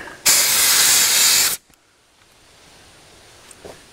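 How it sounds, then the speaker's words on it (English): Compressed air from a hose with a long 90-degree extension blasts hard into the radiator screen and intercooler of a Mahindra 5555 tractor, a loud steady hiss for over a second that cuts off abruptly, followed by quiet with faint knocks. "if you just get yourself an air hose like this, long extension with a 90 on it, just shoot it down in there in between the screen"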